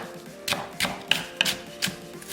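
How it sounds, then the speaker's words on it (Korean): A knife slices onion thinly on a cutting board. There are about six quiet, separate chopping taps at an irregular pace, with a low background hum. "양파 약간은 얇게 채 썰고"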